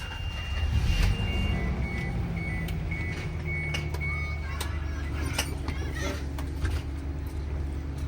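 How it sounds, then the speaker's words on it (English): A school bus engine rumbles low and steady at idle as it starts during a California pre-trip check, with repeated reversing-style beeps and clicks over the top. "I'm gonna turn on the bus."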